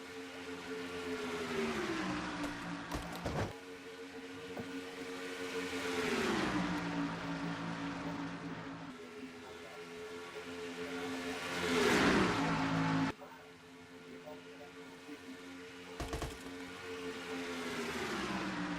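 Race cars roar past at about 187 mph on the Charlotte oval in a racing game, engine notes rising and falling as they sweep by, with one loud pass surging near the middle before the pack drones on.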